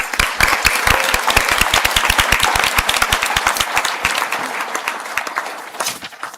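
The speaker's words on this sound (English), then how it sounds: "I ask that the graduates of the Bachelor of Arts Honours in Law and Business and the Postgraduate Diploma in Social Care and Social Justice stand for a round of applause" Audience applause at a spring university conferring ceremony in Sligo, honouring law, business and social care graduates: a dense burst of many hands clapping at once, loud and sustained before thinning out toward the end.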